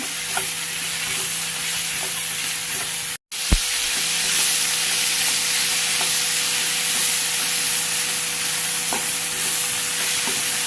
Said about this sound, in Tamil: கொஞ்சமாக புதினா தழை, கொஞ்சம் கொத்தமல்லி தழை, இதையும் இதில் ஆட் பண்ணி நல்லா வதக்கிக்கலாம்.